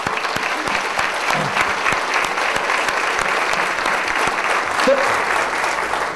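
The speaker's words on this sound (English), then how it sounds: "give yourself a giant round of applause for what you have done" Sustained audience applause at a hospital staff event, dense and even clapping from a large crowd filling the room, loud and continuous with no pauses.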